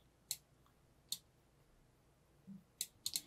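Sharp isolated clicks from a computer keyboard key press and mouse buttons during 3D garment pattern editing, five or six quick dry taps spaced irregularly, the last few bunched together, close and fairly quiet.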